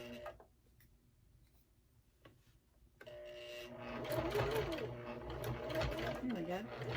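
Home sewing machine stitching in steady bursts, starting after a quiet pause and running loud and close with a dense mechanical whir, while someone talks intermittently over it.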